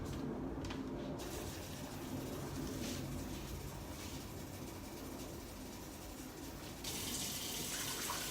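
Tap water runs steadily into a measuring container while making kombucha, a constant gushing stream heard alone and close by for several seconds.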